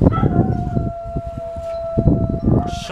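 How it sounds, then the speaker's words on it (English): Several dogs howl together in a sustained, wavering chorus, with steady pitched tones holding across the whole stretch over a rough, busy background. "I'm gonna just talk over these dogs."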